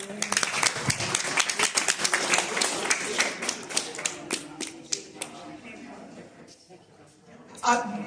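An audience at a business expo panel discussion during a Juneteenth celebration claps, starting as dense, loud applause that thins into scattered claps and trails off, with voices murmuring underneath.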